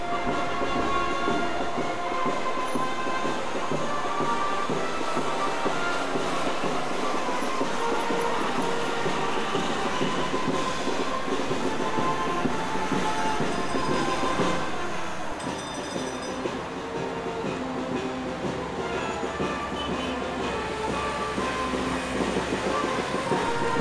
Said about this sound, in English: it was time to catch the Italian Railways train at the local underground station